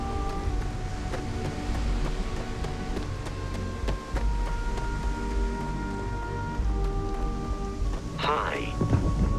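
A thunderstorm over Neon, the lightning-powered city in the Starfield video game: steady rain hiss with low thunder rumbling throughout, and a brief voice near the end.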